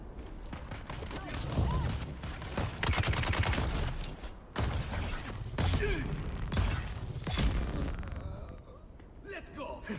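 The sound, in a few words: turret firing at NPCs in Dune Awakening video game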